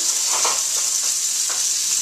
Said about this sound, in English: We're just going to spread it out so that all the bacon can crisp up nicely.